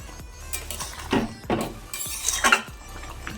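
A spoon stirring fish head curry of bhetki fish in a pot after garam masala is sprinkled in: a few close, quiet metallic scrapes and clinks over a low background hum.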